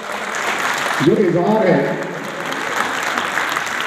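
Audience applause at a death-anniversary memorial event in Pakistan: a dense, steady wash of clapping that swells after the first second and holds, with a voice speaking over it.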